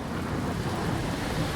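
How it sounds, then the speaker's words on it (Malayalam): Heavy rain with thunder in a cartoon, a dense, steady broadband roar of downpour with low rumbling underneath, continuous and loud throughout with no voices. "മഴ നന്നായി പെയ്യുന്നുണ്ട്."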